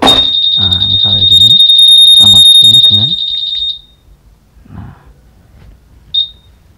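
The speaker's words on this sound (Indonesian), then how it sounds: "akan membunyikan alarm." A piercing, steady high-pitched motorcycle anti-theft alarm on a Honda Vario 150 blares continuously under talking for about four seconds, then cuts off, followed by a brief chirp.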